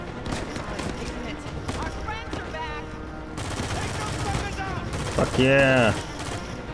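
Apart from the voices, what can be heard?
gunfire from a powerful gun in video game Uncharted 4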